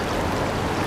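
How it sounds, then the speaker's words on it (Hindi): The Swat River in Pakistan rushes past near an old and a new bridge, a loud, steady roar of fast-flowing water close by. "देखें पानी कैसे खींच रहा है"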